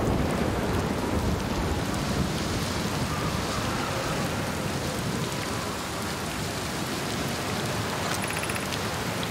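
Rain pours steadily in the video game Outer Wilds, a dense unbroken hiss with a low rumbling underneath that stays loud throughout.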